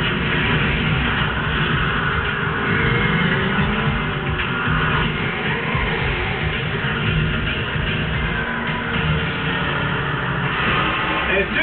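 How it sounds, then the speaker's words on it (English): A 2010 Mercedes-Benz E63 AMG on a racing circuit, its engine a steady, loud, broadband roar with continuous rumble and road noise throughout, no distinct voices. "we began what turned out to be an exhilarating track session with the 2010 Mercedes-Benz E63 AMG"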